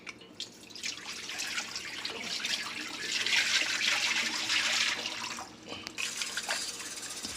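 Fresh water poured over seasoned Jamaican-style pork spare ribs to rinse off lemon juice, a soft splashing trickle that swells into a fuller stream midway, then eases and resumes with a few drips.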